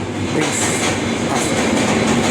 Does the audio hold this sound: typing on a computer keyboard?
no